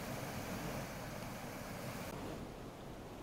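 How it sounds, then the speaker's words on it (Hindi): Floodwater of the Ken river, swollen after rain, rushes continuously as a dense broadband roar with wind buffeting the microphone, steady and loud with no voices. "केन नदी इस तरह से उफान पर है और तमाम जो आसपास के इलाके हैं, जो गांव हैं, वहां तक केन नदी का पानी पहुंच चुका है।"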